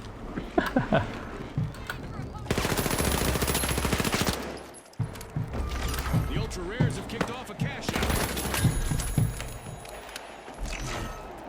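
Rapid automatic gunfire in a first-person shooter video game comes in two sustained bursts between scattered single shots, with people talking over the action.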